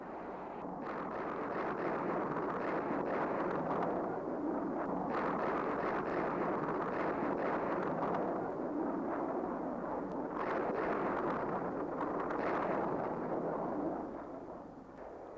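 Distant B-52 bombing strike explosions rolling together into a continuous heavy rumble, swelling and fading in long waves without distinct separate blasts.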